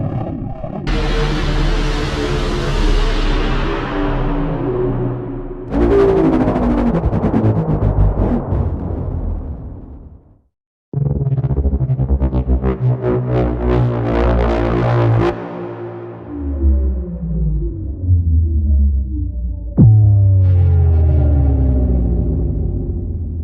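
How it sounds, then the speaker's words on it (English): Trailer downer sound effects from a hits and transitions library, several loud, dark descending booms and falling tones, each sustained for a few seconds before decaying, with a brief silence between sounds and no voices. "Here are a few of the 200 downers included."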